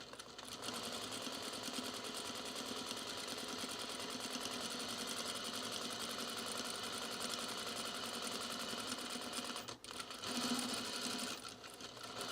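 A sewing machine stitching binding over seams on pajamas, running in one steady close rattle with only a brief slowdown near the end.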